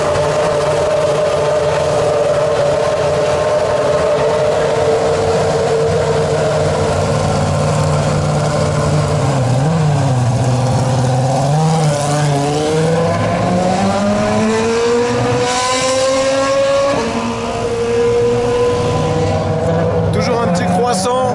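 A Formula 1 car pulls away with a loud, high engine tone that climbs through several gear changes, rising in pitch after the tyre blankets come off, while people talk over it.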